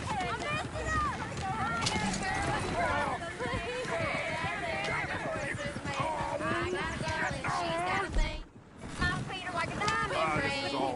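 Horse hooves clip-clop at a running pace in the video game Red Dead Redemption 2, a dense, close rhythm under voices and wind. A short dropout interrupts it near the end.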